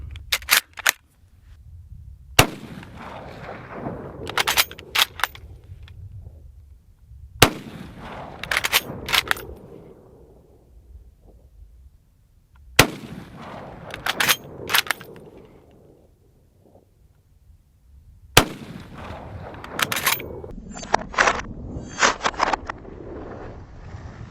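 Arisaka Type 38 bolt-action carbine firing outdoors, five sharp loud shots spaced several seconds apart, each followed by metallic bolt cycling and rattling clicks.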